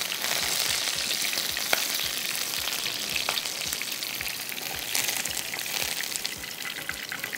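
A tarka of oil tempered with green coriander and green chillies sizzles steadily and loudly up close, a continuous bright frying hiss with small crackles throughout, no voices.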